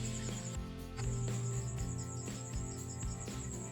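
Steady, shrill cricket chirring at night with a continuous high buzz, filling the background over low rumbling noise, during night spearfishing in the Philippines.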